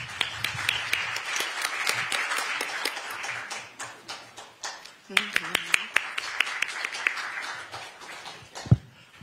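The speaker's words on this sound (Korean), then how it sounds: "박수로 맞아주시기 부탁드립니다" Audience applause at a Korean political party launch ceremony, a dense run of handclaps welcoming a speaker to the stage, fairly steady for about nine seconds with a few sharper claps toward the end.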